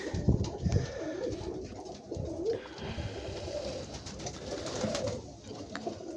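Statni pigeons in breeding season coo in soft, repeated low murmurs that overlap continuously, with a constant background hum and occasional faint rustling nearby.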